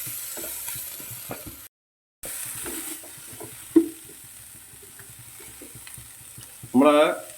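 Chopped carrots sauté for dragon chicken with a soft, continuous pan sizzle, broken by a brief dropout and a sharp stirring knock, before a short burst of voice near the end.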